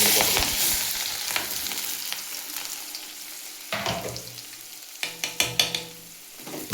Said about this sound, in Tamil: ஒரு கடாயில் கொஞ்சமாக எண்ணெயை விட்டு நம்ம கட் பண்ணி வச்ச வெங்காயத்தையும் பச்சை மிளகாயும்